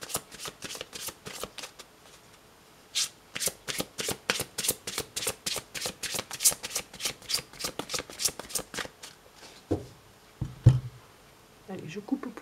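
A deck of cards is riffled in a long run of quick, crisp, rhythmic flutters during a new moon card reading, followed by a brief cut and pause, with a voice murmuring near the end.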